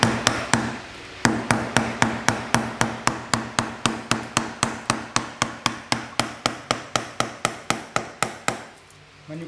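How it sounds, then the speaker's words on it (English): A wooden mallet strikes a carving chisel while carving a wooden cartouche, in a steady, rapid series of sharp knocks, dozens of even blows, close and loud. "I can use this mallet"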